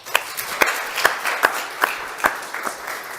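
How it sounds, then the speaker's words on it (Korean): A church congregation claps in welcome for a visiting pastor at a Sunday worship service, its sparse, sharp claps landing in a loose rhythm of roughly one burst every half second, fairly close and with no talking over them. "우리가 환영하는 의미로 박수 한번 주십시오"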